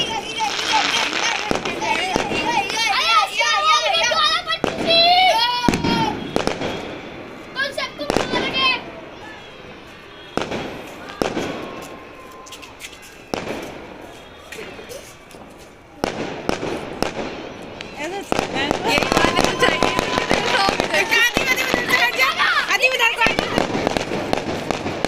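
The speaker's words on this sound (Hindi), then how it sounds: "ये लगातार ऐसी एक से फुटे थे एक साथ। मुझे ऐसी वाले पटाखे पसंद है" Firecrackers and fireworks burst repeatedly during a nighttime Eid celebration, with sharp cracks in rapid volleys and crackling bursts, loud and continuous, while children and other voices chatter in the background.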